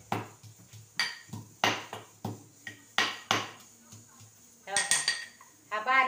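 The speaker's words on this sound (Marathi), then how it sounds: "तर माझ्या कॅमेऱ्यामध्ये दिसत नाही तुम्हाला लसूण कुटल्याला" Garlic being pounded in a mortar at home gives sharp, repeated knocking strikes in an uneven rhythm, with some clinking and a few faster clustered hits near the end.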